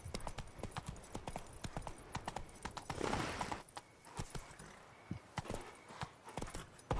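A horse gallops in The Witcher 3: Blood and Wine, a rapid rhythmic clip-clop of hooves that stays close and steady, with a short whoosh in the middle and a few slower, separate hoof strikes toward the end.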